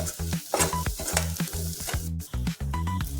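Ground chana dal fries in oil over a low flame for pudalangai usili, giving a steady crackling sizzle broken by repeated scraping stirs of a spoon in the pan.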